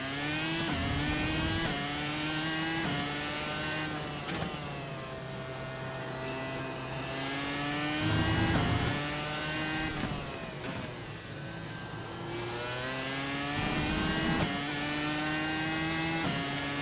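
A NASCAR race car drives laps around the Kansas oval track, its engine a loud, continuous high-pitched roar that rises and falls in pitch as it accelerates and shifts gears, with no voices.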